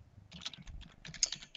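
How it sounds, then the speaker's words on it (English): Fingers tap out a quick, irregular run of clicks on a computer keyboard, close and distinct with no talking. "Until I was just typing this right now"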